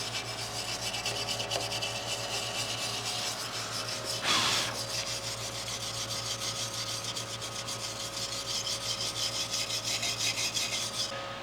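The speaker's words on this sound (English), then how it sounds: "So I'm going to grab a wire brush and clean that up a little bit" A wire brush scrubs welded cast aluminum in steady repeated rubbing strokes, a close, continuous scratchy rasp over a constant low background hum, with one brief louder scrape partway through and no talking.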